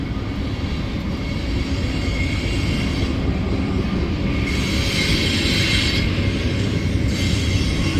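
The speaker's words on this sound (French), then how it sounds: "il y a un peu de bruit, désolé, il y a le train qui passe" A train rolls past close by, a loud, continuous rumble of wagons with wheel squeal and bright hiss swelling midway.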